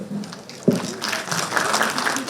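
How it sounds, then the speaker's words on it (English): Audience applause at a microfinance summit session in Eastern India, a broad, steady patter of clapping that swells after a sharp start and carries on evenly throughout. "So extra applause for Vivek."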